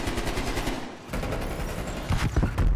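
Rapid automatic gunfire fills an esports video game match, a dense rattling stream of shots that eases briefly and then returns louder with a few sharper cracks near the end.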